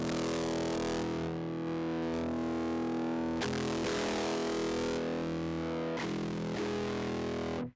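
A distorted electric guitar with an over-the-top fuzz tone and crackly fizz in the top end plays sustained chords and notes, cutting off and restarting several times, loud and alone with no talking.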